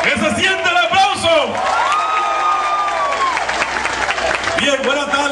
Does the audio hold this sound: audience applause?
yes